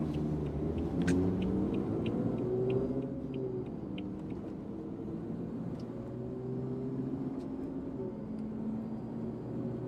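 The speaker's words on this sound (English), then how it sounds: "You hear that turbo?" A BMW F80 M3 converted to a single turbo with an 8-speed cruises in fifth gear at about 50 km/h, giving a low steady engine drone with a faint turbo whistle and a light rhythmic ticking above it.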